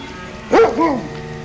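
A sled dog on a Yukon trail gives a couple of close, loud barks in quick succession, the second shorter and falling in pitch, with a quiet hum underneath.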